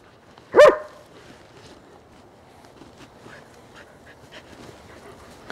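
Two dogs playing, one sharp close bark near the start, then quiet shuffling and faint movement sounds for several seconds.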